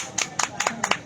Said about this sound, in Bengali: সবাই তালিয়া